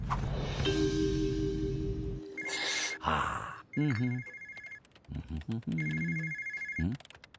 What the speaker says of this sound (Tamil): போன் அட்டெண்ட் பண்ணுங்க.